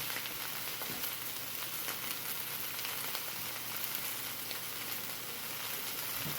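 Shallots and broccoli sizzle steadily in a frying pan for a plant-based stir fry with ramen noodles, a continuous, fairly quiet hiss and crackle with no talking.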